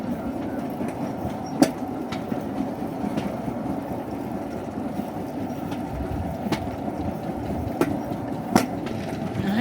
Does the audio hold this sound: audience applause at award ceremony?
no